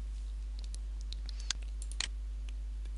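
A computer mouse clicks a few times, sharp close taps standing out from soft scattered ticks of desk activity, with no talk.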